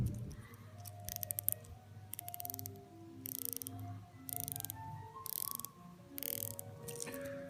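An Omega Seamaster watch bezel turned in quick bursts of crisp ratcheting clicks, close and dry, several separate runs with short pauses between, set against faint background music.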